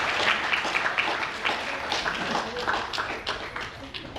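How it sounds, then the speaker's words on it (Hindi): Guests at a 75th birthday celebration applaud in a brief burst of scattered, fairly close hand claps, with some voices mixed in. "ताली तो बनती"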